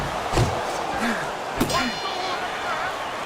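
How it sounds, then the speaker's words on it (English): Boxing bell ringing to end the final round in the video game Fight Night Champion, two bright metallic dings about a second apart with ringing overtones, heard over crowd noise and a commentator's voice. "there's the final bell in a fight nobody thought they'd hear the final bell in"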